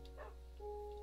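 A dog barks in a Minecraft-style video game, a single short bark followed by a thin whine under a steady low hum.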